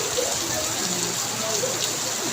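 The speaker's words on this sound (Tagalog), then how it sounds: "Ang lakas ng ulan." Heavy rain pours steadily in Tagaytay, a dense, even hiss of falling water that fills the whole moment without letup.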